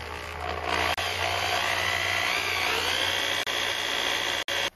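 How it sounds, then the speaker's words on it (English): A power drill bores a hole through angle iron and a bike frame, a loud, sustained whine at close range with a couple of very short breaks, and no voices. "So I've drilled the hole right through to the other side"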